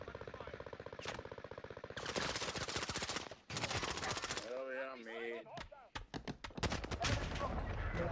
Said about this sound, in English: Where am I getting sniped from?